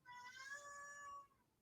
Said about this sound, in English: And small interruption from my cat.